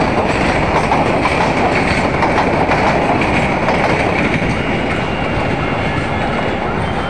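Another train runs past nearby, a steady loud roar and clickety-clack of carriages on the track with no break throughout.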